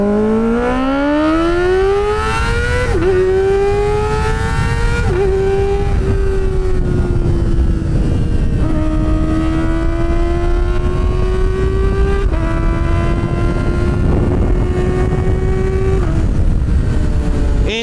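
A Kawasaki ZX-4RR with a loud aftermarket exhaust revs hard and climbs through the gears, a high, screaming engine note that rises, drops briefly at each shift, then climbs again close to the microphone.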